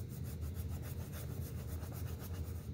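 A paintbrush scrubs acrylic paint onto canvas for a close-up owl painting, giving a steady, close rasping with quick rhythmic back-and-forth strokes and no talking.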